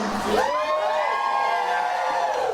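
A burlesque show audience in a 1920s-style speakeasy cheering, whooping and yelling together, a dense continuous crowd roar with rising shouts that holds steady throughout.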